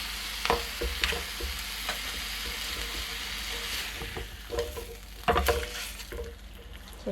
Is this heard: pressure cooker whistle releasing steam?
no